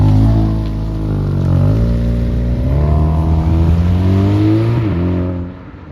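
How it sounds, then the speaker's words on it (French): A loud car engine, a Volkswagen Golf GTI or Audi S3, revs up from outside, the pitch climbing through the gears as it accelerates and then fades away at the end. "écoutez le bruit, petite accélération de l'extérieur"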